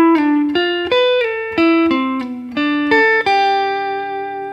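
Electric guitar phrase of arpeggiated triad chords starting at the 12th position and moving down the neck with slides, plucked notes in a quick rhythm, close and clear, last chord ringing out.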